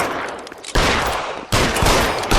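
Rapid gunfire in the L.A. Noire shootout, loud and close, with dense bursts of shots that surge at about three-quarters of a second and again at one and a half seconds, and no talk over it.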